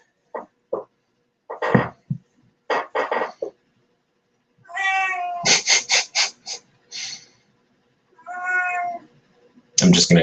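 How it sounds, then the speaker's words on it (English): A cat meows repeatedly and insistently close by during a class session, with clusters of short and drawn-out calls, some loud and harmonic, scattered between brief bumps and quiet gaps. "I'm just going to ignore the cat."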